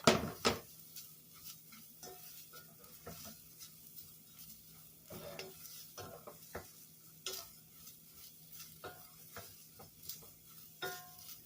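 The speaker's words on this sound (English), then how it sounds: "We're now sauteing this in a couple of minutes." Leeks saute in canola oil in a pot, a faint sizzle broken by irregular scraping stir strokes and light clinks of a utensil against the pot, close and quiet, with no voices.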